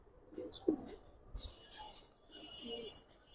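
Young pigeons, silver pankhi, lal dom and mushal dom birds, give soft low coos and a few faint chirps nearby, quiet and intermittent, with someone speaking in between.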